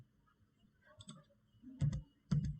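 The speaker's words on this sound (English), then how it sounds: "Okay, I'm clicking next." Three sets of crisp clicks from a computer mouse, each a quick double tap, the last two louder and closer over a low room hum.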